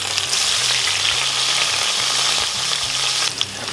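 Potatoes hit a preheated cast iron skillet and fry with a loud, steady sizzle that stays dense and unbroken from start to finish.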